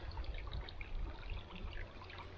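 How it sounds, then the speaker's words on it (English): A small woodland stream, its water brownish from fallen leaves, trickles and babbles steadily in a quiet, continuous murmur close by. "another little place where water is making noises"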